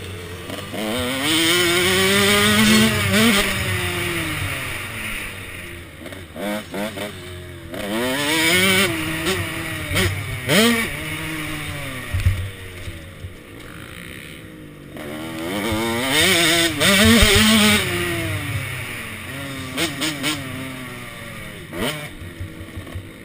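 A motorcycle engine, recorded riding on a GoPro HD Hero 2 camera, revs up and down again and again in loud, close sweeps with steady wind rush underneath.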